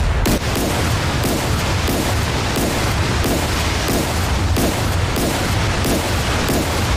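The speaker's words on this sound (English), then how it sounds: "Again, very accurate radar guided fire," Naval guns of a 052C destroyer in the DCS World combat game fire in a fast rhythmic string of booming shots over a constant loud roar, with dense repeated blasts throughout.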